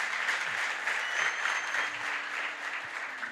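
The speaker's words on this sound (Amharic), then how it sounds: "አጨብጭቡለት" An audience at a network marketing event claps steadily for a few seconds. The sound is dense and moderately distant, with no talk over it.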